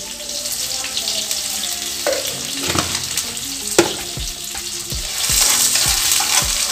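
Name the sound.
sugar added to hot oil sizzling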